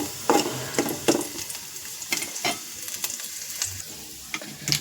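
Chopped garlic sizzles in hot oil as a tempering for a green mango and mustard curry. A crackling fry sounds close by, with scattered sharp pops and spatters over a steady hiss and no talking.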